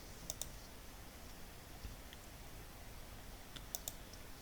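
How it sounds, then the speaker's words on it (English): Typing a formula on a computer keyboard, a few faint, sparse key clicks in two small clusters over a quiet background hiss. "You will type formula."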